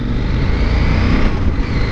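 A CFMOTO 800 MT adventure motorcycle ridden slowly, its engine giving a loud, close, steady low rumble that holds even throughout without revving.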